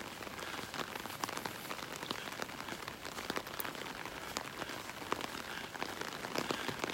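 Rain patters steadily on an umbrella during a beach walk in North Naples, Florida, a close, dense crackle of drops with frequent sharper taps and no talking.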